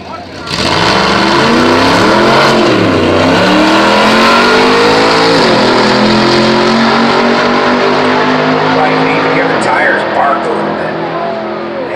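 Toyota Super Camry drag race car roaring down the racetrack at full throttle, a loud, sustained engine howl with shifting pitch and no talk.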